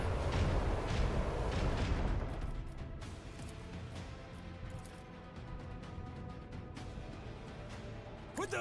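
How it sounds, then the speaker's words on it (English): Macro cannons open fire in Warhammer 40,000: Rogue Trader, a heavy rumbling barrage of booms loudest at the start, then settling into a long low roar and crackle that fades out. "Macro cannons, open fire!"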